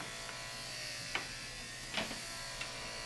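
Electric clippers set for a number 7 cut buzz steadily through a dog's fur during a first home grooming, a low continuous hum broken by a few brief clicks and scrapes.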